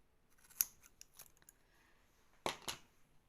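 Scissors cut through material for a Halloween craft built from leftover drill bits, with a few sharp snips spaced out over a few seconds, close by and otherwise quiet.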